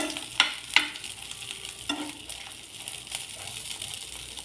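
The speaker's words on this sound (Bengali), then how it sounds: "এবার আমি মরিচগুলো একটু হালকা ভেজে নেব।" Red chilies fry lightly in a pan at a quiet home stove, giving a soft, steady sizzle with a few sharp clinks of a utensil early on and gentle stirring scrapes.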